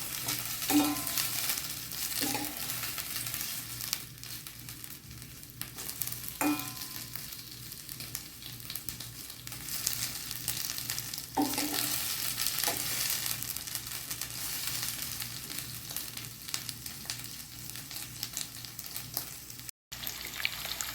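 Prawns frying lightly in a pan for a Telugu prawn curry, giving a continuous soft sizzle with occasional stirring knocks, close and fairly quiet, with a brief dropout near the end.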